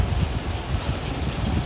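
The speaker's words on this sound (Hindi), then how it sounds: "बारिश तो रुकना ही नहीं चाह रही" Heavy rain pouring down on a night-into-morning street, a dense continuous wash of drops, steady and close with no pauses.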